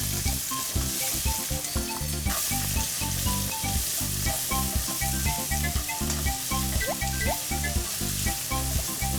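Burdock and garlic stir-fry in a pan with a loud, continuous sizzle and rhythmic scraping strokes of a spatula repeating throughout, close up, with no voices.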